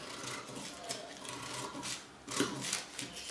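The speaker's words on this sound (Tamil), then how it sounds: "இங்கேயே இப்படியே கட் பண்ணிக்கலாம்." Scissors slice through denim fabric being cut out for a flared-sleeve jean top, producing a steady, close rasping and rubbing with a louder burst of crunching strokes near the end.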